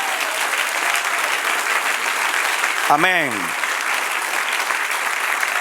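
A church congregation applauds in a dense, steady wash of clapping that runs throughout, with a voice briefly speaking over it midway.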